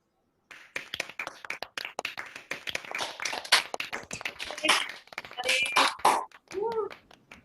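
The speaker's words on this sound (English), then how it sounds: "I now warmly welcome you to unmute yourselves and to cheer and to clap for each other" Law and politics graduates cheering and clapping over a video call, scattered uneven claps and excited voices overlapping at close range, bursts rising and falling across the clip.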